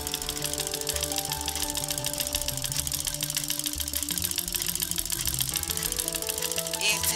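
A straight stitch sewing machine runs steadily while embroidering, giving a continuous close mechanical whir with a fast regular stitching rattle and no pauses.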